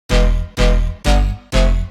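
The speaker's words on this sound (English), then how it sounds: "But what I did was change the pitch of it right here just to make a little melody out of it." Electro house bass one-shot pitched into a short melody: four evenly spaced, punchy notes, each with a deep low body that swells and then decays, loud and alone.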